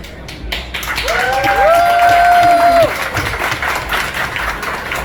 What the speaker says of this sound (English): Big round of applause for these brave young ladies